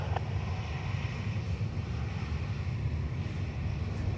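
A Lufthansa jet rolls for takeoff on runway 28R at Dublin Airport, a broad distant engine roar that stays steady and low beneath wind noise.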